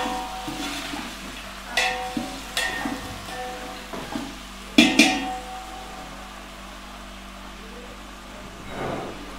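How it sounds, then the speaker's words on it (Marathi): Vegetables sauté in a pot for a large batch of veg pulao, giving a soft background sizzle broken by several stirring scrapes and knocks, with one louder clatter near the middle. "आता हे मस्त परतून घ्यायचंय."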